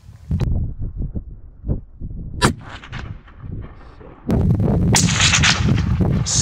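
A rifle shot rings out during a chamois hunt in New Zealand's Southern Alps, a single sharp loud crack in the middle, followed by a louder, sustained burst of noise toward the end.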